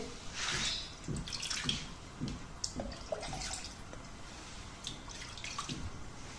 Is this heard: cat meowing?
no